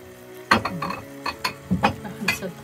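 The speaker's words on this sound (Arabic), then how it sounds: "دابا نخليه يتقلى شوية" Ingredients frying in oil in a pan, with a utensil repeatedly clattering and scraping against the pan in short bursts over a low, steady cooking hiss.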